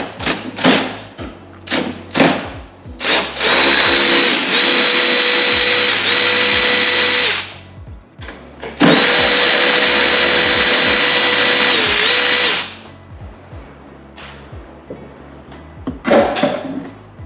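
Power tool undoing a bracket on an 11th-generation Honda Civic Si, with two loud sustained whirring bursts of several seconds each, broken up by clunks, thuds and handling knocks close by.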